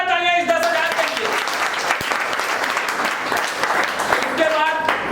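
Steady, dense audience applause filling a leaders' meeting hall for a business event, clapping continuing alone without a break, with bits of crowd noise and a short musical tone near the start and end.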